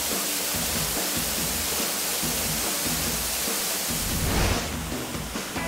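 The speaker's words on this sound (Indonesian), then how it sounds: "coba lo lihat air terjun yang ada di belakang gua" A waterfall roars as a constant broad hiss, dense and unbroken throughout, with a slight surge in loudness near the end and no voices over it.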